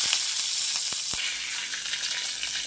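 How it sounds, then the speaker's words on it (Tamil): Mustard seeds and curry leaves sizzle in hot oil while tempering for a garlic chutney, a steady close hiss with a few sharp pops and crackles scattered through it, no voices. "கடுகு நல்லா பொரிஞ்சு வருது, ஆனால் கருகிடக்கூடாது."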